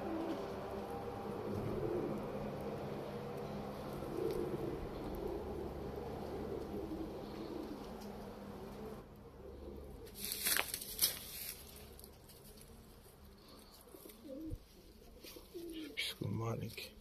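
Uzbek pigeons coo low and faint among background murmur, with a few louder rustles and knocks later on.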